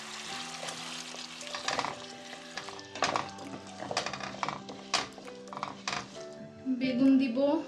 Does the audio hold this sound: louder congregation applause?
no